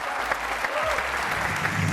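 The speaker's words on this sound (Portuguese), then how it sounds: "Um aplauso para o João Pedro." Studio audience of the RTP 1 game show The Floor applauding a contestant, dense sustained clapping that fills the whole moment at an even, loud level, with some faint voices mixed underneath.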